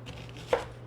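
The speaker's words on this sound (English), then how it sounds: "Get these all cut up." A single crisp knife chop through vegetables on a cutting board while preparing sweet potatoes, one short close tap standing out over a low steady hum.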